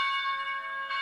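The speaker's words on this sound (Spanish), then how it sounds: "choco con esas campanas" Church bells ring with a sustained, shimmering metallic tone, several overlapping pitches humming together for about a second at moderate distance.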